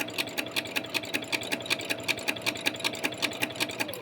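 A sewing machine stitches a seam in fabric for a boxy tee, a fast steady rhythmic chatter of needle strokes heard up close and uninterrupted.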